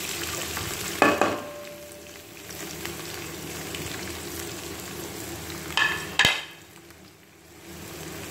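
Onions are added to heated oil in a pan on a stove. Two brief clatters of stirring sit over a soft, steady sizzle, and no voices are heard.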